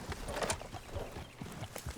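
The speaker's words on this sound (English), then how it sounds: "Look at that white horse on Dutch." Horse hooves clip-clop in Red Dead Redemption 2, a quick irregular run of soft thuds near a white horse, steady through the whole moment with faint background game ambience and no speech.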